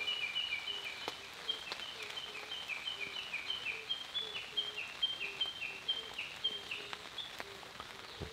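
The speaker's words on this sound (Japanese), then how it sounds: "鳥の声がね、ここいいっすね。" Birds sing in a forest during light rain, with a repeating high chirped phrase over a soft background hiss and occasional drips. The sound is faint and distant, and no one speaks.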